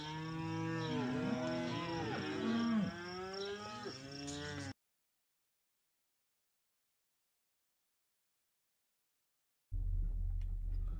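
Cattle unloaded into a ranch corral, many cows and calves mooing loudly and overlapping near at hand, then a gap of silence before a brief low rumble of hooves and trailer noise.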